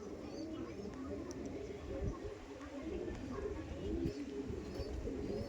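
Andhra Kalshira pigeons, including a male bird, coo in low, continuous rumbling murmurs close by, the soft throaty calls overlapping throughout with a voice talking over them.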